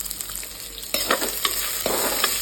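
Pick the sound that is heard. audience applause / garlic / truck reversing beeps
garlic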